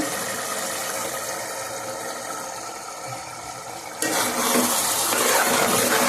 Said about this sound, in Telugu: ఇదిగోండి కూర చూడండి అలా ఉడుతుందో చక్కగా ఉడుతుందో